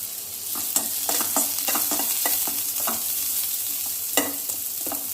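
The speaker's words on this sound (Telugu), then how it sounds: "4 పాయలు తెల్లగడ్డల్ని దంచి దీంట్లో వేద్దాం." Crushed garlic fries in hot oil with curry leaves in a pot of sambar, a steady close sizzle broken by repeated sharp scrapes and clinks of a spoon stirring. No one speaks.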